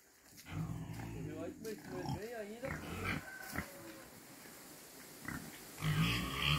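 Pigs on a farm in Serrinha, Itapipoca, grunting and squealing as they wait for feed, with a steady mix of close animal calls and people talking throughout.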